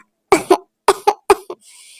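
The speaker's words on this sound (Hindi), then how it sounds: "मम्मा कुकू भैया की खांसी अब कैसे ठीक होगी?" Three quick pairs of coughs, close and forceful, separated by short pauses, followed by a faint breathy wheeze.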